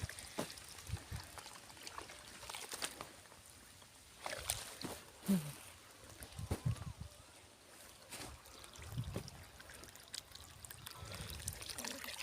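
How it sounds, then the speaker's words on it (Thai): Water trickles and flows quietly through a sugarcane planting field, faint and continuous, with occasional soft splashes and bits of distant talk. "น้ำไหล"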